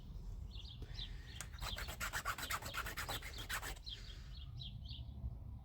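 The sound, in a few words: small chainsaw file rubbing on scrap metal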